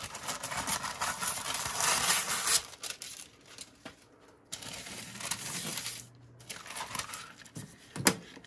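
Large scissors slice through parchment paper in long, crunching, rasping strokes separated by short gaps, close and moderately loud, ending with a sharp snap.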